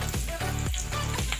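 Four slit green chillies hit hot oil in a pan for aloo dahi, producing a brief, loud, continuous close-up sizzle and spatter with no voices.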